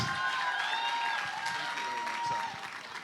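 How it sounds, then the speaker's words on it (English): Audience at a summit in Port Harcourt applauding to welcome a speaker, a sustained dense clapping wash with cheers and a whistle, fairly even then tapering near the end. "with a round of applause, with a shout"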